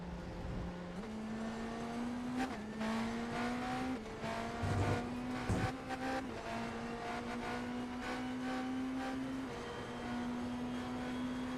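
A prototype race car in a sim race at the Brickyard drones with a loud, close, steady engine note. It climbs through several gear shifts, and other cars rasp past around it.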